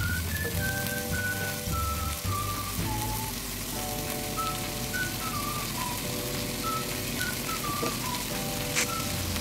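Corn and carrots sauté in a pan with a constant dense sizzle running beneath faint whistling background tones throughout.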